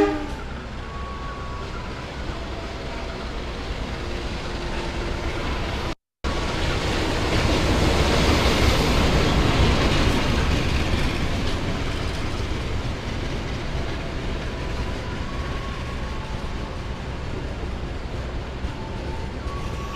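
The Penataran Doho train rolls into track 2 of a station with a broad, steady roar of wheels and carriages. The noise builds and swells through the middle, and faint tones sound in the background.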